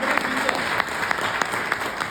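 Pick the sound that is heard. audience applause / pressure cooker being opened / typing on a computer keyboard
audience applause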